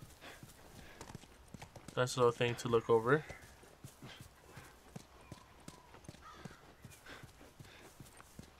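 Horse hooves clip-clopping in the video game The Last of Us, a steady rhythmic patter of hoofbeats over several seconds, moderately close, while someone talks briefly over them.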